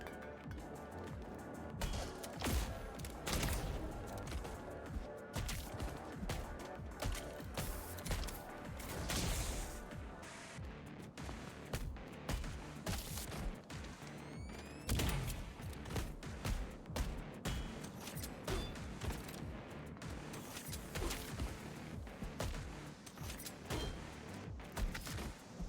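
Rapid video game gunfire crackles through a dense, busy mix of shots, clinks and impacts, with bursts repeating steadily and loudly across the whole stretch.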